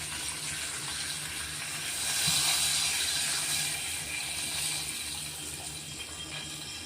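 Water is poured steadily into a cooking pot while a Khandesh-style chilli water dish is made, a continuous close splashing stream that swells slightly midway, with no talking.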